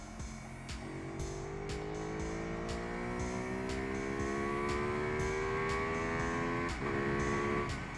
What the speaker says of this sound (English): It's like this slow, kind of lazy sort of grrr.